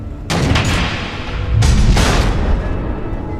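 Missiles explode in Batman: The Enemy Within, two loud booming blasts about a second apart, each rolling into a heavy rumble that fills the air close by.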